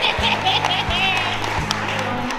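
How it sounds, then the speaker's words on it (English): Guests at a wedding reception at The Knotty Barn in Arizona applaud as the maids of honor step up to give a toast. The clapping is moderate and runs beneath steady low music and a voice. "Let's have a big round of applause for Reagan and Lexi"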